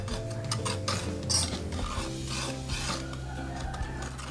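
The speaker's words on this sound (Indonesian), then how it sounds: "kemudian gula pasir, dan garam. Kita aduk dulu semua ya." Granulated sugar and salt are stirred into a chocolate pudding mix. A dense, continuous gritty rasping and scraping sounds up close without pause, with no speech.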